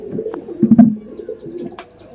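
A female Punjabi pigeon cooing nearby in soft, low, throaty bursts, with a fuller coo in the middle and faint chirps in the background.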